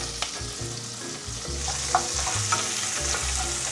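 Onions sizzle and fry in a hot pan at home, a steady close crackle with occasional stirring scrapes and small pops throughout.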